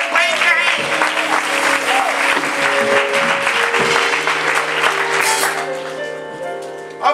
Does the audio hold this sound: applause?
yes